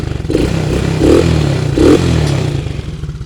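A Polaris Sportsman 700cc twin or Tao Tao 125cc quad ATV engine running in gear with a reworked carb and homemade MSD wiring, a loud, close, steady rumble that swells slightly with throttle.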